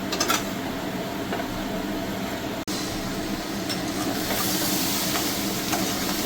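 Crab and spice masala sauté in a pan for a crab kosha, a steady, fairly loud sizzling hiss that breaks off for an instant partway through before carrying on.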